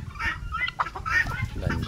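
A chicken clucks repeatedly nearby in short, choppy bursts, with faint background noise.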